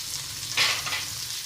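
Ginger garlic paste with crushed shallots and curry leaves frying in a pan, a continuous close hiss with a brief louder burst of sizzle partway through, no voices.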